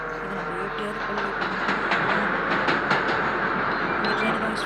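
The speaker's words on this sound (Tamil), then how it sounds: "ட்ரெயின் வருது. ட்ரெயின் அங்கே இருக்கு." A train rolls past in a video game prison-break map, a steady broadband rumble with faint rhythmic clatter, close and continuous under a busy game soundscape.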